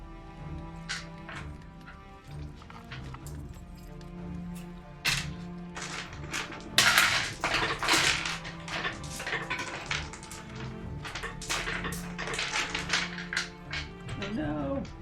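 Plastic four-sided dice are handled and clatter close by in a series of sharp taps and rattles, busiest in the middle stretch, with steady background hum.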